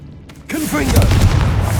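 The Confringo spell in Hogwarts Legacy goes off as a loud, close blast with a heavy boom. A voice calls out over the start of it, and a rumbling tail follows.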